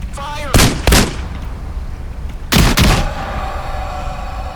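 Gunfire in the VR shooter Into the Radius 2: two pairs of loud, close shots in quick succession, each pair about a third of a second apart, with a ringing tail between them.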